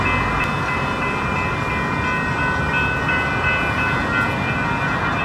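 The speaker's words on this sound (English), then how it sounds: "Here comes the train." A train rumbles steadily nearby, a continuous low roar with a faint high ringing tone from the rails, loud and unbroken throughout.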